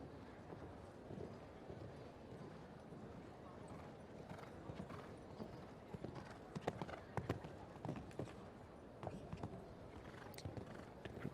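Showjumping horse's hooves during a Grand Prix jump-off in Rotterdam, faint clip-clop strikes on the arena surface that grow louder and more distinct in a rhythmic burst toward the middle, over soft background noise.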